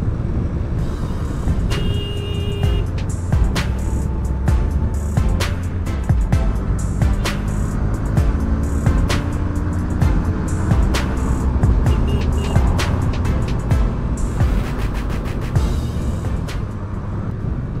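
Trucks and other traffic rumble steadily along a hilly ghat road on the way from Mumbai to Alibag, heard from a moving motorcycle through constant wind and engine roar, with occasional short beeps and horn-like tones.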